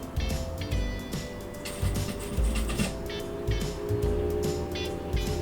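Sewing machine backstitching the pleats of a double-sided cloth mask, a close, steady mechanical whirr broken by quick rhythmic stitching bursts and short pauses, with no one speaking.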